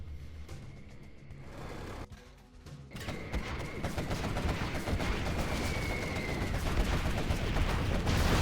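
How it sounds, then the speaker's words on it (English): A-10 air strike gunfire in the strategy game Generals Zero Hour: a dense, sustained roaring burst of rapid fire with rumbling impacts, growing louder after a brief dip. "A10 moves in, kills a few units and some tunnels down to the hole"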